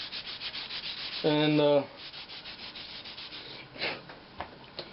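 Hand sanding a wood turning with 400 grit sandpaper gives a soft, continuous rhythmic rubbing, fairly quiet and close. A voice speaks briefly near the start.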